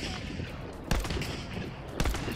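Gunfire in the Hunt: Showdown video game, two loud sharp shots about a second apart over steady game ambience, with brief talk around them.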